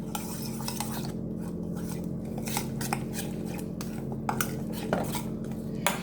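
Biryani masala being mixed in a bowl for a North Indian egg biryani: a spoon scrapes and clinks against the dish in quick, repeated strokes, close and clear with no talking.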